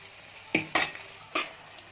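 Chili powder being stirred into soft, mashed cooked onions in a pan, heard as a few short, close scraping strokes of a spoon against the pan over a faint background.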